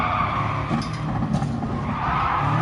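Tires skidding as a car oversteers in Gran Turismo Sport, a steady loud engine drone with a sustained scrubbing slide over it, no voices.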